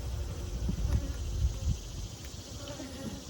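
Honey bees hum around an open hive, a low steady buzzing drone close by with some faint rustling, lasting a few seconds without talk.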